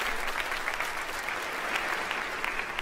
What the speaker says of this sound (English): Give Steve a big hand clap.